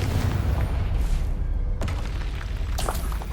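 Confringo fire spell exploding in Hogwarts Legacy: a deep, rumbling boom with sharp blasts layered over a continuous low roar, loud and close.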